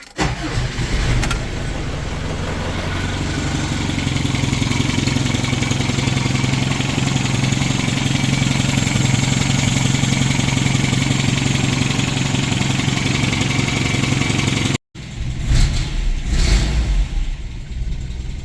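A 1985 Toyota pickup with a 22R engine cranks, fires and settles into a loud, steady idle with a rough mechanical drone, cutting out abruptly near the end before running again.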